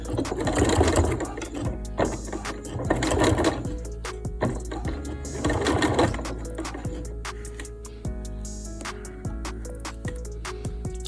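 A sewing machine stitches a skirt in several rapid mechanical bursts of needle clatter with short pauses between runs, loud and close with no talking.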